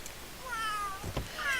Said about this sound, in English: Those cats are all having a good old meow.